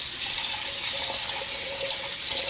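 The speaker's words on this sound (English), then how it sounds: "what we're going to do is just run some water in there" Tap water runs steadily into a kitchen sink to rinse rice, a close, continuous hiss and splash with no voices.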